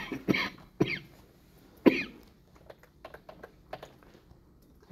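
A lecturer coughs in a classroom during a programming lecture: three sharp, separate coughs in the first two seconds, then softer scattered clicks and small knocks at close range, with no talk.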